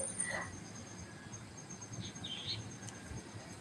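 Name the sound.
birds and cuckoo calling outdoors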